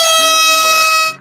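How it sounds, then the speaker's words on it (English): A loud, sustained air horn blast used as a sound effect in a rap beat battle track, holding steady for about a second before cutting off abruptly. "That air horn is trash."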